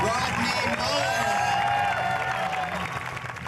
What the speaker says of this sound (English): Let's give him a big round of applause, Rodney Mullen